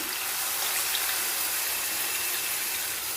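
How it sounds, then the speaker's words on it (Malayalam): Water poured into masala for a Kerala sardine curry, a steady hissing splash that runs evenly from start to finish with no talking. "ഇതിലേക്ക് ഞാൻ കുറച്ച് വെള്ളം ചേർത്ത് കൊടുക്കുന്നുണ്ട്"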